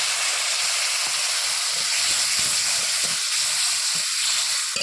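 Loud continuous sizzling of spice paste frying with onions in a pan, with occasional soft stirring scrapes underneath.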